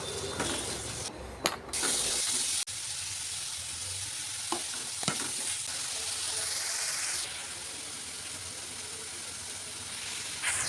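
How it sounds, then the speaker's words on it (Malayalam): Shallots sautéing with salt in a pan, a steady close hiss and sizzle with a few brief scrapes of stirring, no talking. "ചെറിയ ഉള്ളി നമുക്ക് നല്ലോണം ഒന്ന് വഴറ്റിയെടുക്കാം കേട്ടോ കുറച്ച് ഉപ്പൊക്കെ ഇട്ട് കൊടുത്തിട്ട്"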